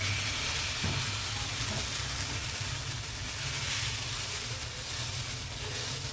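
Protein pancake batter sizzles in ghee on a hot pan, giving a continuous crackling hiss at a steady, fairly loud level.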